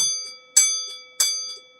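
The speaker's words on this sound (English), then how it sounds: "That's the dinner bell" A dinner bell rings twice with sharp metallic strikes about half a second apart, each tone ringing out and fading, heard alone without talk.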